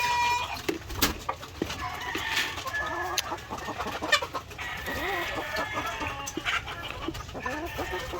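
White leghorn chickens clucking steadily in a coop, with several birds overlapping in busy, continuous chatter and occasional sharper squawks, close and moderately loud.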